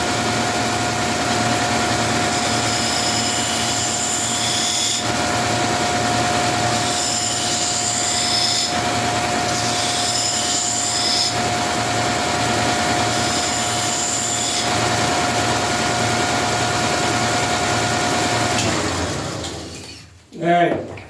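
A grinder sharpens a knife edge freehand, a loud continuous motor hum with a steady grinding rasp that swells and eases in passes, then winds down abruptly near the end.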